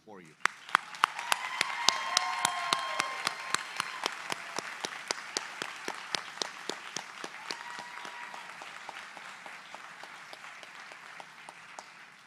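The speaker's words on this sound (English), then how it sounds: "Let's take a moment to applaud them for all they've done" Applause from a large crowd at a college commencement ceremony: dense, sustained clapping that swells early then gradually tapers off, with some sharp individual claps standing out.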